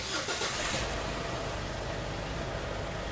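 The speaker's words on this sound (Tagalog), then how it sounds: "tapos pa-start ko na itong makina" A Ford Everest SUV engine cranks and catches in a brief starting burst, then settles into a steady, fairly loud idle hum close by.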